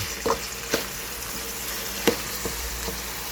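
Beef ribs sautéing in a pan, a soft steady sizzle under a few light clinks and stirring scrapes of a utensil, close and without talk.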